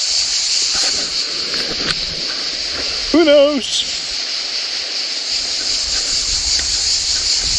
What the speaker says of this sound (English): cicadas